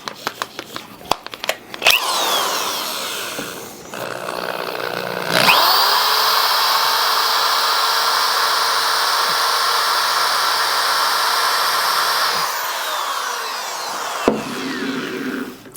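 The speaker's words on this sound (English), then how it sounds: "It's going to take probably hours to drill an actual hole in this thing." Power drill boring into a 25 lb quartz gemstone, a few short revs and bumps followed by a long, loud, steady whining grind of about seven seconds that cuts off abruptly.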